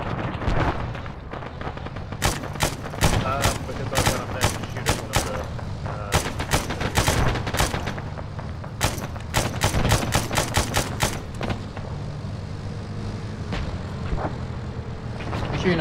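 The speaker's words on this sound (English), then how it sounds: "Just start shooting at him." Rapid bursts of gunfire in the military shooter Arma, clustered volleys of sharp cracks over a steady low rumble, coming in waves with brief pauses between them.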